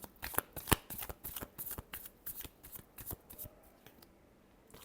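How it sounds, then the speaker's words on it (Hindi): A deck of tarot cards is riffled and shuffled by hand, a quick run of crisp flapping clicks close up, followed by a few softer taps as the deck settles. "last shuffle"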